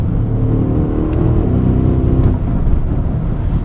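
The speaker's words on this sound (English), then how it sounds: "V8 just bellows away in the background." A 2024 Audi SQ8 with a V8 engine accelerates, its deep, steady engine note rising and swelling from inside the cabin, continuous and fairly loud with no talking.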